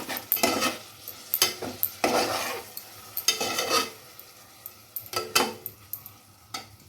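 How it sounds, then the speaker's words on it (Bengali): Dal khichuri being stirred with a little water in a pressure cooker, a series of close, uneven scraping and sloshing strokes of a spoon against the metal pot, pausing briefly between bursts, with no voices. "প্রথমে অল্প জল দিয়ে এটাকে একটু ভালো করে মিশিয়ে নিই"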